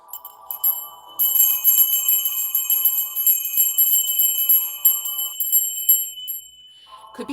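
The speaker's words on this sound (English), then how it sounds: "I'm going to ring my bell." A hand bell rung to cleanse a space gives a bright sustained ringing with a rapid tremolo shimmer, loud and close, fading away near the end.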